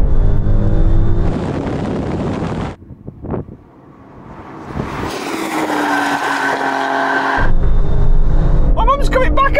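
Cars launching in a drag race, a Mercedes-AMG A45 S pulling ahead of a BMW M340i and an Alfa Romeo Stelvio QV: loud engine roar and wind rush, a brief lull, then rising acceleration noise, with excited talk over it.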